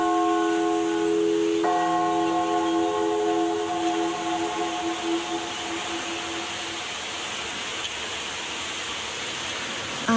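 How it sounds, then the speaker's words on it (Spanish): Church bells rung all together in a clamor, ropes gathered so every bell sounds at once, a loud ringing wash with sustained tones that decay into a dense metallic shimmer. "entonces tocar todas las campanas a la vez"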